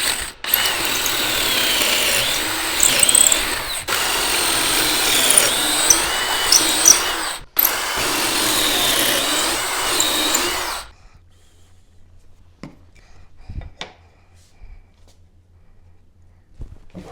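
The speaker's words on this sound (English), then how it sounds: "We're going to be drilling the end of our rail pieces on our Craig boring machine." Kreg boring machine drilling into the ends of wooden cabinet face-frame rail pieces, a loud whirring bore with ratcheting mechanical chatter in three bursts, then stopping abruptly and leaving quiet workshop clicks.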